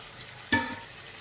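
Food frying in a pan, a single soft sizzling burst that fades quickly over a quiet background, with no talking.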